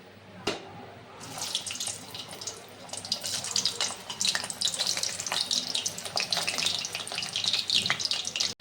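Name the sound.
chicken pakoras being fried a second time in oil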